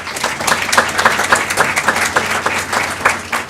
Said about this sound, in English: Please give all these individuals a round of applause.